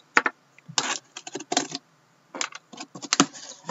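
Trading cards tipped out of a cut-open, factory-sealed 2015-16 Upper Deck Series 1 tin, giving several quick bursts of clattering and sliding cardboard with short pauses between them and no talking.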